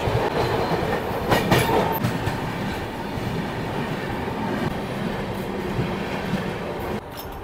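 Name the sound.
special train entering Raigarh station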